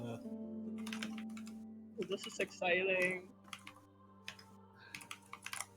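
Rapid keyboard typing clatters through most of the scene, dense clicks under a brief spoken line and some background voices and tones.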